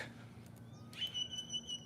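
Birds chirp and whistle outdoors during a walk around a neighbourhood block, a few clear high calls standing out over a low steady background hum.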